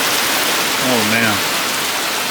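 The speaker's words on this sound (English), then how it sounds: "it is coming down." Heavy thunderstorm rain pours down on a car parked at a junkyard, a steady loud broadband wash throughout, with a brief tonal sound rising over it midway.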